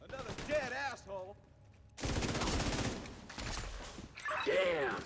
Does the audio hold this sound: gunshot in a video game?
yes